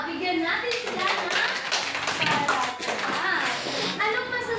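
Applause from a school group audience, a dense patter of many hands clapping steadily, mixed with children's voices and chatter over it.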